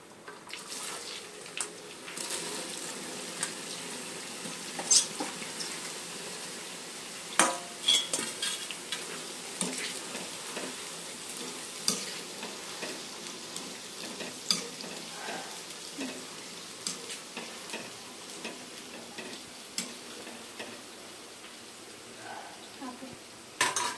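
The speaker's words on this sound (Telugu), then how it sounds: "ఇవి కూడా వేసుకొని ఫ్రై చేసేసుకున్నాం." Okra (bhindi) fries in a pan for a catering-size batch of curry, with a steady crackling sizzle broken by frequent scraping stir strokes and light metallic clinks throughout.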